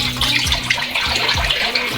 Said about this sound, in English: Pour in some oil.